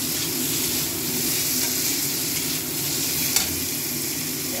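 Capsicum fries in a pan for breakfast, giving a steady, close, loud sizzle throughout with faint stirring scrapes and one brief clink.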